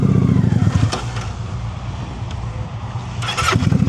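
Motorcycle engine in advanced slow-speed riding practice, a loud near throttle burst at the start, easing to a low idle putter, then revving up again at the end.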